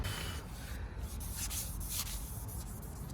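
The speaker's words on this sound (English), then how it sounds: "I'm gonna try to kind of blend that in with the wet sand" Wet sanding of primer on a Nissan 240SX Kouki body panel, heard as steady close rubbing strokes with a rhythmic swish, continuous and moderately loud, with no talking.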